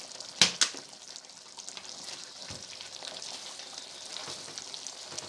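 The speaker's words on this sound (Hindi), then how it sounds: "अब इसकी हम भुनाई शुरू करते हैं।" Mutton sizzles in oil in a kadahi with a soft, continuous frying hiss, opening with two sharp clinks and followed by faint stirring scrapes.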